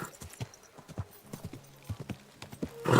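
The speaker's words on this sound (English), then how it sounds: "Easy, good horse." Horse hooves clip-clop at a steady walking rhythm inside the video game Kingdom Come Deliverance 2, close and fairly quiet, with a soft whinny or snort near the end.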